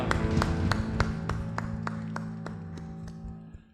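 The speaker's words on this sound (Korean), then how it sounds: "다시 오실 예수님을 기대하며 영광의 박수 드리겠습니다." A church congregation at a Sunday evening service applauding in unison, loud rhythmic claps at an even beat over a sustained organ chord, fading out toward the end.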